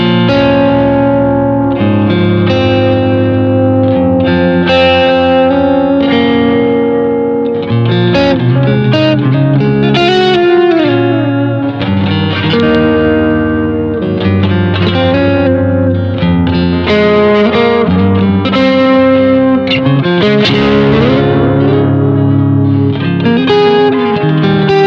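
A Harley Benton DIY kit electric guitar at full volume, distorted with a touch of delay, plays loud, continuous chords and lead lines with dynamic picking and no pauses.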